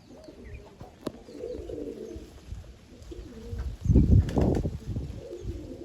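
Female Kaldoma Phulsira pigeon in a loft, soft low cooing rising into a fuller burst of coos near the end, with a sharp click and faint background rustling.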